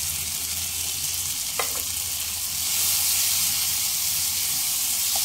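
Ground cumin and coriander hit a hot pan with chopped tomatoes for a katla fish-head moong dal, giving off a constant loud sizzle and hiss with a faint stir or two.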